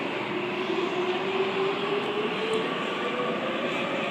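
A Sydney suburban train pulls out of platform 2 at Chatswood station on a Penrith service, a steady, loud rumble and hum of wheels and motors with no voices over it.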